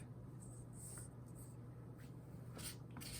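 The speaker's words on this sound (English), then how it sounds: "I'm going to use a black marker for this" A black marker squeaks and scratches across paper in short strokes for a perspective drawing, faint and close with steady room hiss, no talking.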